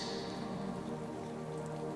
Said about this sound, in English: as the rain continues to fall, soft and steady